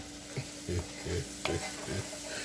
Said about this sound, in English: we're going to cook this flour until it has reached a color that you like